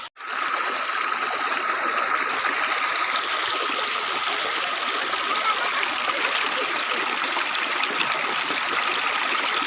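Steady broadband rush of river water flowing over stones, continuous and close, with no voices, filling the whole stretch after a brief quiet start.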